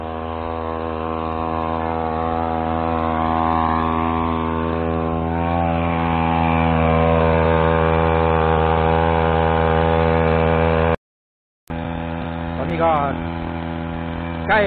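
A brush cutter engine driving a water pump drones steadily and loudly, its pitch wavering slightly, with a brief dropout before the motor hum resumes.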